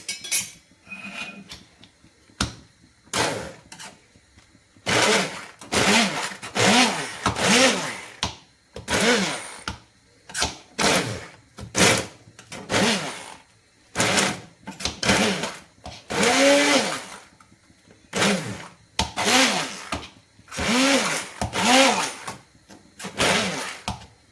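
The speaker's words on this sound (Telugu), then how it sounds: "ఒకసారి బ్లెండ్ చేసేసాము అనుకోండి నీట్గా ఉంటుంది" A kitchen blender whirs pineapple into a paste in repeated short pulses, loud close bursts of motor whine separated by brief pauses, with a voice talking in between.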